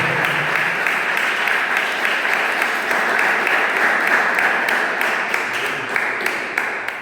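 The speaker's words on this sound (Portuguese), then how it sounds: "E as palmas que louvem ao Senhor." Church congregation applauding in praise during a worship service, steady dense clapping filling the whole stretch at a fairly loud, even level with a few sharper claps standing out.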